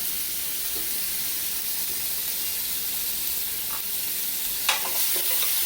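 Cajun dry rubbed ribs searing in a hot pan, a continuous loud hiss and sizzle with a few faint pops and shifts near the end and no talking.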